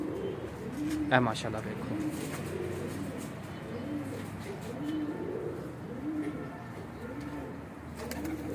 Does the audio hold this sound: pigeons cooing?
yes